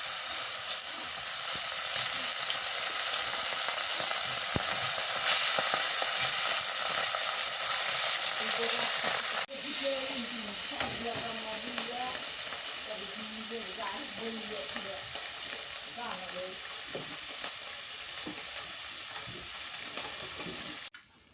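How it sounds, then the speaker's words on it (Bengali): Large river fish sizzle loudly in hot oil in a village kitchen, a dense continuous hiss with stirring and scraping noises, a sudden shift as more fish drop in midway, then steady frying to the end. "তেলের মধ্যেই আর কটা মাছ আছে ওগুলো দিয়ে দিই"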